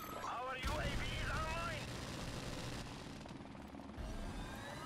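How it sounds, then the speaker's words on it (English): A helicopter in Modern Warfare Remastered during a Search and Destroy match against veteran bots gives a steady, loud rotor drone lasting throughout, mixed with game effects and a brief voice-like sound early on. "So you want me to call the helicopter in still, I guess?"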